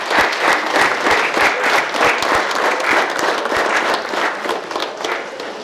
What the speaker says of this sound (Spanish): quiero que le brindemos un fuerte aplauso a Félix y a Giovanni por todo su esfuerzo